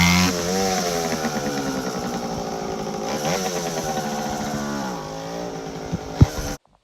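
A dirt bike engine revs hard in second gear on a snowy ride, a loud, steady buzzing whine that climbs and dips in pitch for several seconds, then stops abruptly.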